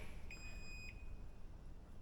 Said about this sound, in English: it beeps a couple times just to let you know that it is full